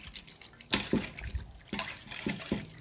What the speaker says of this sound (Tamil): தண்ணியில் போட்டு நல்லா வாஷ் பண்ணி எடுத்துக்கிறீங்க.